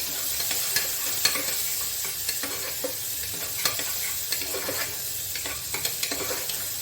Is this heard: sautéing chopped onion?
yes